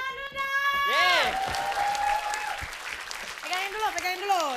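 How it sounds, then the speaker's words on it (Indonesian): An audience applauds as a steady wash of clapping, while loud voices cheer and whoop over it throughout. "Tepuk tangan dulu dong."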